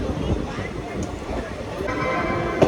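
The Kolkata–Haldibari superfast express rumbles along at speed, a dense, steady roar of wheels on rails with someone speaking over it.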